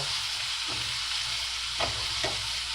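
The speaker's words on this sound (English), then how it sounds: "And you just mix your onions like so." Onions are stirred in a hot frying pan, sizzling steadily and close, with a few scraping strokes of the utensil against the pan.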